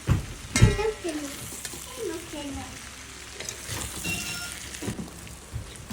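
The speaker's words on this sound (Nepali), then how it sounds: "अदुवा कोरेर राखेको अदुवा हालेर फेरि मजाले चलाउने" Garlic and grated ginger frying in a pan, a continuous crackling sizzle broken by utensil scrapes and clinks as the mix is stirred, close up, with brief voiced sounds in the background.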